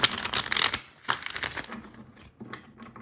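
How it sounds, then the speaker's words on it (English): Rider-Waite tarot cards riffle and rustle close by in a couple of quick shuffles, crisp bursts of flapping followed by softer handling. "I'm just going to do a couple shuffles here"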